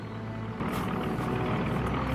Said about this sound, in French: On entend déjà les avions.